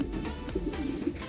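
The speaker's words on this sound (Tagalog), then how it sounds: "Dito pa mga kalapatids" Racing pigeons arriving at their loft cooing, a few soft low coos repeating close by over a steady background murmur.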